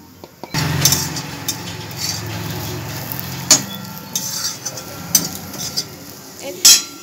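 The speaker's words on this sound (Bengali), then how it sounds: "আবারও আমি নেড়ে নিয়ে একটু ভাজা ভাজা করব" Dried coconut powder is stirred and lightly fried in a pan, with a soft steady sizzle under scattered scrapes and clinks of a spoon against the pan, some sharper knocks standing out.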